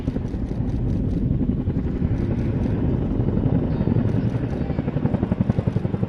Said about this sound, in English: presenting both discs to the airflow, bringing the aircraft to a stop